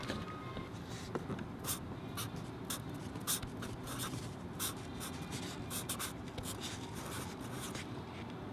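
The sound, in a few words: writing with Sharpie markers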